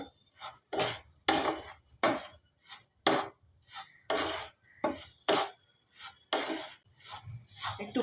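Semolina being dry-roasted in a pan gives a rhythmic series of scraping, rasping stirs, about a dozen short strokes in a regular back-and-forth pattern with brief pauses between them, close and clear without talk.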